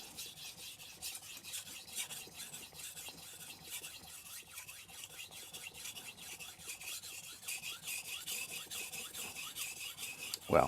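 A TOSA Aogami Super 165mm santoku knife is sharpened on a Naniwa Chocera Pro 1000 grit whetstone, with soft, steady rasping strokes repeating close by and a louder knock at the end.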